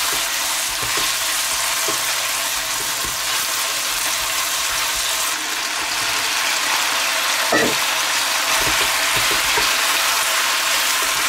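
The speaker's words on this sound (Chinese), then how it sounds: "将肉片给它炒散， 下入葱姜，继续炒香" Pork slices are stir-fried with scallion and ginger in a wok, a loud, continuous hissing sizzle with brief scraping stirs of the spatula now and then.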